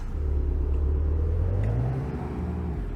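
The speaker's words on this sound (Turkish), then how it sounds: "Şöyle bir de drift atalım." Low rumbling engine of a 1993 Tofaş Doğan SLX sedan in Euro Truck Simulator 2, droning steadily while drifting, its pitch sliding slowly upward then easing off, close and continuous.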